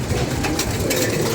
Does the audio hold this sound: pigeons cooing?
yes